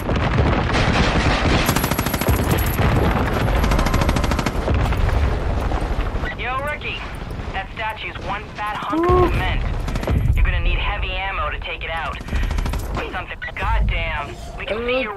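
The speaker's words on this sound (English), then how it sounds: "who's shooting at me?" Gunfire aimed at the player in Far Cry 5, dense rapid automatic bursts and loud shots running throughout, with someone talking over the chaos in the middle and later stretches.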